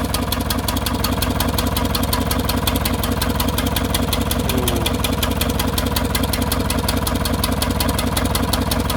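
A vehicle engine idling steadily with a rapid, even mechanical pulse, loud and close, running continuously with no talk over it.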